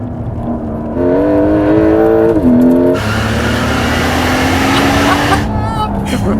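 A Porsche 911 Turbo S accelerates hard, its engine note climbing through rising harmonics before surging into a loud, broad roar as it passes close, then tailing off.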